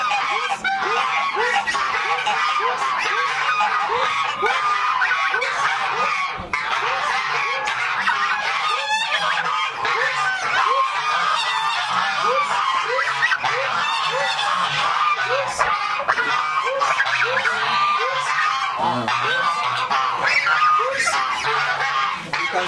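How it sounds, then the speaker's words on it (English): Four 13-week-old goslings on a goose farm in Nigeria honk continuously, a dense overlapping chorus of nasal calls held close and loud throughout, with no speech. "These are the first goslings that we had in this our farm, and these ones, they are 13 weeks old."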